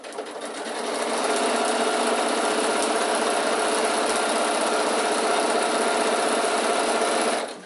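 A sewing machine stitches together the stacked layers of an insulated picnic bag, its needle whirring in a fast, even run that starts after a brief pause and holds steady to the end.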